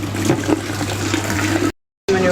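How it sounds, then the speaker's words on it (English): Reverse-osmosis (RODI) water poured into a jug for mixing reef aquarium supplements: a steady, close splashing pour with a low hum beneath, briefly cut to silence near the end before resuming. "I'm going to measure that out and tip the calcium and the water and a little bottle of trace into this first jug"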